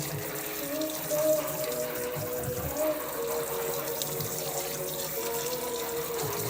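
Water runs steadily from a tap in a continuous hiss and splash, fairly quiet, with faint background sounds.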